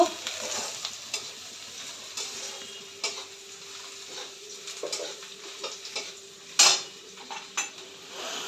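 Cooked rice is stir-fried with garlic in a home kitchen pan: a low sizzle under repeated scraping strokes and sharp metallic clinks of a spatula against the pan, with no talking.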